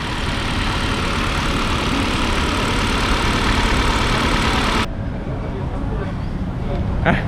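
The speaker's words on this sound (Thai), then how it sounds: "ตอนนี้เครื่องยนต์ติดอยู่ครับ" A Mitsubishi Outlander PHEV engine idles while warming up, a steady hum beneath a broad hiss that suddenly drops away near the end, leaving the low rumble alone.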